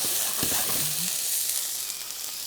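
Tomatoes blistering in a hot skillet with cracked black pepper, a soft steady sizzle and frying hiss with a brief low clatter near the start.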